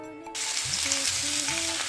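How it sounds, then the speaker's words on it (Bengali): Teasel gourd (kakrol) pieces drop into hot mustard oil tempered with nigella seeds, setting off a loud, steady broadband sizzle that starts abruptly and continues close by with a few faint utensil tones over it. "ফোড়ন ভাজা হয়ে গেলে ধুয়ে রাখা কাঁকড়োর জল ঝরিয়ে দিয়ে দেবো"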